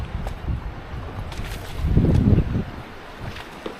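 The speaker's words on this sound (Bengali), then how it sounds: "প্রচণ্ড ঢেউ সমুদ্রে আজ, মানে সাইক্লোনিক ওয়েদার" Wind buffets the microphone while low waves of a rough, cyclonic sea surge and crash nearby, a rough rumble swelling in the middle.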